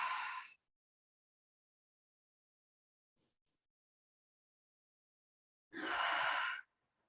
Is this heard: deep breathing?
yes